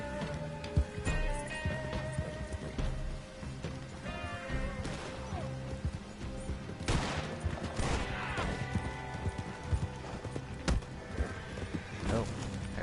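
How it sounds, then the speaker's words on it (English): Gunfire rings out in a video game as sharp, loud bursts of shots over galloping hooves and clattering game noise, with people talking throughout. "He just started shooting at me."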